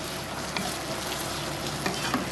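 Ginger garlic paste sizzles and crackles steadily in a hot pan, a soft continuous frying hiss with occasional small pops, close and without talk.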